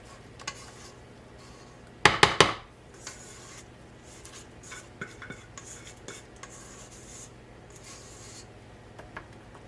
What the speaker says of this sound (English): Just got to scrape it out of the mixing bowl